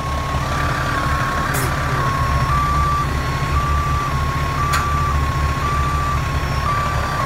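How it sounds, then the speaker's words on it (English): A steady, repeating electronic warning beep from a fire truck's aerial ladder, signalling a pulled pin, pulses over a loud idling truck engine rumble, with a couple of sharp hissing bursts. "An alarm will sound to let the operator know the pin was pulled."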